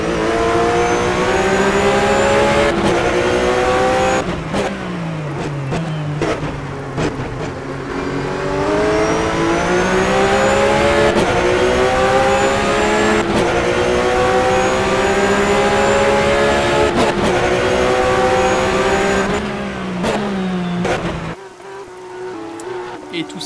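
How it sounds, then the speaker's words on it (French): Onboard a Porsche Supercup race car at Imola, the engine screams loudly through repeated rising revs with sharp upshifts and downshifts, rain on the track, and the engine note dropping away near the end. "Depuis la voiture de Simon Pirard."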